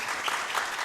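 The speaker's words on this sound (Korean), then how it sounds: "큰 박수 부탁드립니다" A brief burst of audience applause for discussants at an international academic conference in Korea, dense steady clapping from a seated crowd.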